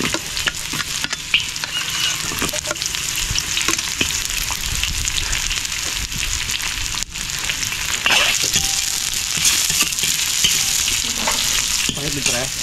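Garlic frying hard in a pan at an outdoor riverside cook, a loud dense crackling sizzle with occasional stirring scrapes, close up and continuous, with no voices.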